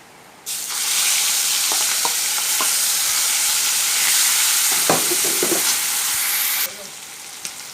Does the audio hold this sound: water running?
no